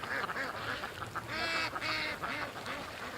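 Several ducks quack repeatedly in overlapping bursts, loud and close, with a rapid uneven rhythm and some honking calls mixed in.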